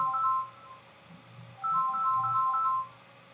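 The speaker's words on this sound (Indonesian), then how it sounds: "mohon maaf tadi ada telepon" A telephone rings in two bursts of electronic warbling tones with a pause between them, heard fairly clearly over a low background hum.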